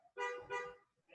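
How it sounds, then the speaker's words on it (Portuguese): Two short honks from a car horn at a door, moderately loud and close together, with a brief third tone starting at the end. "buzinando na porta"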